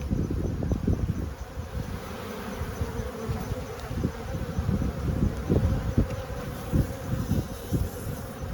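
Honey bees drone steadily inside an open beehive, a dense continuous buzz up close with fluctuating low hums from individual bees passing near.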